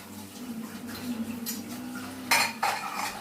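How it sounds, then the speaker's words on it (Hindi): Dishes are washed by hand, with scattered clinks and clatters of utensils against pots and plates over a low background hum. The clatter grows louder and busier toward the end. "बर्तन धो रही हूँ।"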